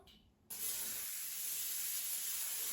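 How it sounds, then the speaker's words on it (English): A steady hiss of non-stick cooking spray into an air fryer basket starts abruptly after a brief quiet moment and continues without a break, close to the microphone. "spray it with a non-stick cooking spray"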